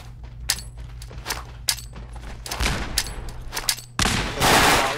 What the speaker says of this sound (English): I'm just throwing grenades everywhere